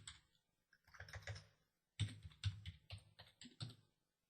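Soft keystrokes on a computer keyboard entering a password, two quick bursts of close, quiet typing separated by a short pause, with no speech.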